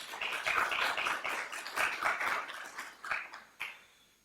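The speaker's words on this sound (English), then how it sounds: "would please join me in a round of applause again to this phenomenal achievement" Audience applause at a university lecture, a steady wash of many hands clapping that gradually thins out toward the end, with a few last scattered claps.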